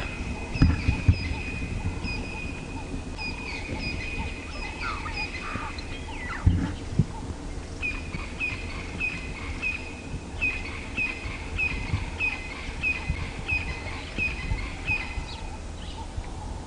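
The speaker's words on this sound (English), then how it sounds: "Now I'm hoping that the grey-headed bush shrike is going to call again. It was doing its territorial call." A grey-headed bush shrike gives its territorial call during a sunrise safari drive, repeated clear whistled notes in short series, moderately distant over a quiet bush background.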